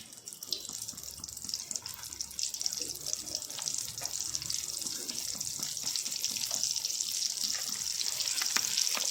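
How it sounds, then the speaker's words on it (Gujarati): Aloo rolls deep-frying in hot oil over a medium flame, a dense, constant sizzle and bubbling that grows slightly louder over time, close and continuous. "તો જો આ રીતે આપણે તળવા માટે મૂકી દીધા છે।"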